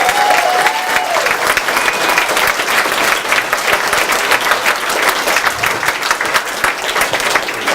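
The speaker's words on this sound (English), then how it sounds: "it's traditional in a university bookstore to applaud for Lisa Brown" An audience in a university bookstore applauds, a dense, steady round of clapping that carries on for several seconds at close range, with a faint voice or two underneath.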